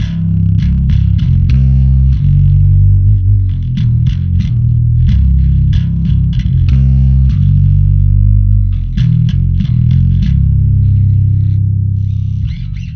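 A heavily distorted bass riff from a song played at full tempo, loud and continuous, with chunky low notes and a few sliding bends in between.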